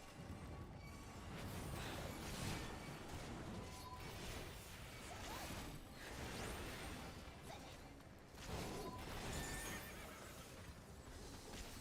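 A horse in a video game neighs and whinnies repeatedly, its hooves clip-clopping amid swooshing game effects, all fairly quiet and steady.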